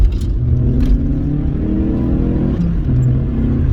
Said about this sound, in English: when you do put your foot on the throttle pedal, suddenly, oh, you're going really fast